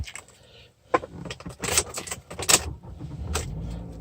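A 2017 Toyota Camry SE is switched on inside the cabin, with keys jangling and a series of sharp clicks and rustles. Quiet gaps fall between these sounds.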